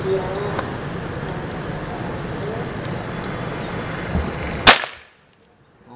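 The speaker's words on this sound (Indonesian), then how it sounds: "langsung aja kita coba mulai tembak keramik yang triple itu ya" A PCP bullpup air rifle, a Pulsar, is fired at thin triple-layered ceramic tiles outdoors: a single sharp crack near the end over steady insect-like hiss, then abrupt quiet.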